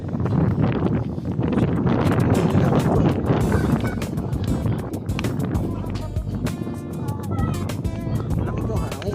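Strong wind on a highland highway in Tanay buffets the microphone in a constant roaring rush, with faint voices and movement sounds underneath.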